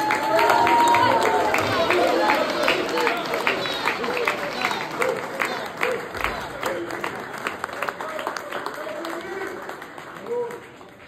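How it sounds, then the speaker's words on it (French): Sustained applause from a crowd, loud and dense at first, with a voice speaking over the clapping as it gradually thins. "Applaudissez sans arrêt."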